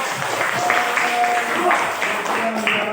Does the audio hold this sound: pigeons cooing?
no